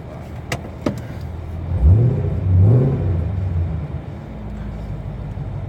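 A Camaro engine revs up twice in quick succession through a throaty Manzo aftermarket full exhaust from the headers back, then settles back to a steady idle rumble, close and loud.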